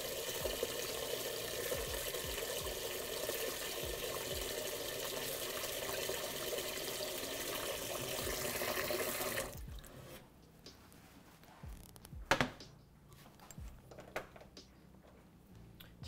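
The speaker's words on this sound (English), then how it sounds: "So we'll fill this pot about halfway up." Hot tap water pours steadily into a cooking pot for about nine seconds, a loud continuous rushing hiss that cuts off abruptly, followed by a few faint clanks and knocks in the kitchen.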